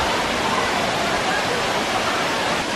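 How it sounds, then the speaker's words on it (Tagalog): Tinago Falls in Lanao del Norte roars as a loud, continuous broadband rush of falling water, steady and close throughout. "Nandito kami sa Tinago Falls."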